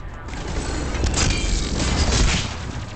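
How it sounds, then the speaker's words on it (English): An explosion in the video game Mass Effect 3 gives a dense, loud rumbling boom that swells through the middle and fades toward the end, with busy crackling combat noise layered over it. "Get out the way, get out the way, we explode."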